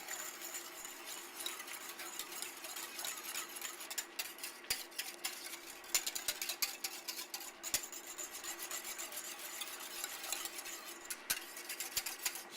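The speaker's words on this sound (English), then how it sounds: "I'm going to stir this up." A spoon scrapes and rubs steadily in a pot of milk as powdered milk is stirred in, a soft, continuous rasping with occasional small clinks, close and quiet.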